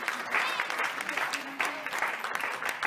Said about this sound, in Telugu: మీరు చప్పట్లు పెట్టి అభినందిస్తారు.